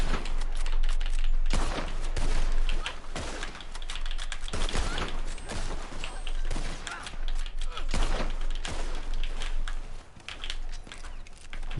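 Gunfire in rapid, irregular volleys, with sharp cracks packed densely together over a steady background and a few louder bursts standing out, moderately loud throughout.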